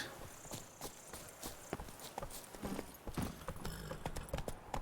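Hooves of Roach, the horse in The Witcher 3 video game, clip-clopping at a run in a steady galloping rhythm, close and clear over faint in-game background sound.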